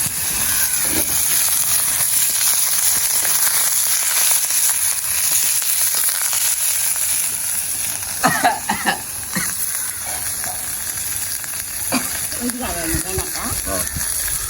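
Crab masala being sautéed in a pan on an open stove in Jaffna, with a steady, loud sizzle and frying crackle running throughout and occasional voices talking over it near the end.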